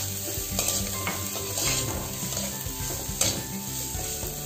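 A soybean mixture roasting in a hot pan gives a steady close sizzle, with repeated scraping and clinking as it is stirred and turned. No one speaks.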